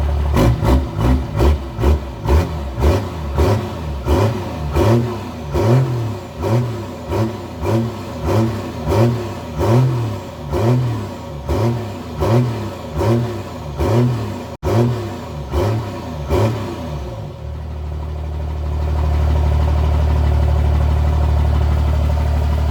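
A first-generation diesel truck engine fitted with new 5x16 injectors runs close by, pulsing through a series of rhythmic revs before settling into a steady, loud, low idle.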